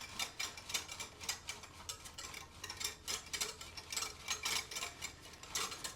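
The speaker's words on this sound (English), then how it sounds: "you put the whisk in your liquid, and you just spin it between your fingers" A whisk is spun back and forth between the palms to mix a liquid, making quick, rhythmic rattling and clicking bursts that repeat steadily at close range.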